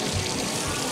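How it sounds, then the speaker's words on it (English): A small waterfall at an outdoor shopping area in Pigeon Forge, Tennessee, gives off a steady, broadband splash and rush of falling water that stays even throughout. "A little waterfall back behind you there."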